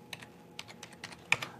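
Quick bursts of keystrokes on a computer keyboard, a handful of crisp, close clicks in an irregular rhythm with short pauses, quiet and with no voice.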